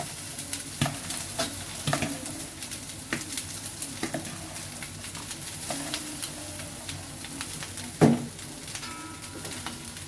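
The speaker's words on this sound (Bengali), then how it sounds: "রাইস দিয়ে দেন হচ্ছে আমরা বেশি আঁচে ভাজবো" A big batch of cooked rice is stir-fried on high heat for nasi goreng. Soft, steady frying crackle is broken by repeated spatula scrapes and taps, and one sharper clank comes near the end.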